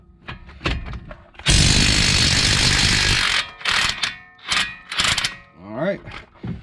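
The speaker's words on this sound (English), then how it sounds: "Just going to take an impact here," An impact wrench fires off 22 mm brake bracket bolts on a 2015–2023 Nissan Maxima in one loud, close, two-second burst, followed by scattered clanks and handling noises while a person talks.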